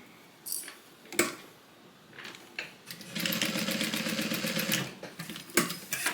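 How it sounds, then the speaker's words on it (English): A sewing machine runs a basting stitch through the layered top of a bag pocket, a quiet burst of rapid even stitching after a few scattered clicks and handling sounds, then stopping. "Just with a little basting stitch."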